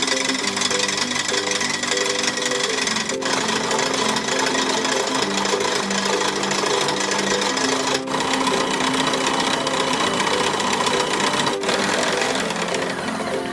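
Electric hand mixer whisking about a liter of cream in a bowl to churn butter, running as a loud steady whir throughout with a couple of brief clicks.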